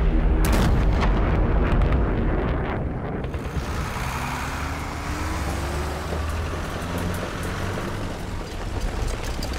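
Korean War artillery shelling of Hill 597.9 by UN forces, heard as a loud, continuous deep rumble with heavy booms that start sharp and then settle into a sustained roar.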